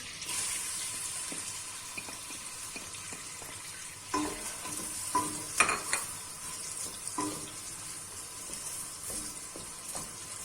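Oil sizzles steadily in a pot as onions fry, while a utensil scrapes and stirs in short bursts, with a few louder clatters midway.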